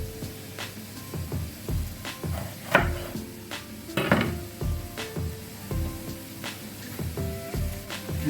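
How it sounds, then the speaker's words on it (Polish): A knife cuts a bell pepper into pieces on a board, giving irregular crisp taps and thuds at close range against a faint background sizzle. "Teraz paprykę na takie kawałki kroimy."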